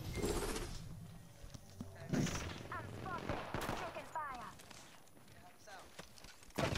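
Rapid automatic gunfire in the battle royale video game Apex Legends, bursts of shots and impact sounds mixed with game effects, heard under a player's talking.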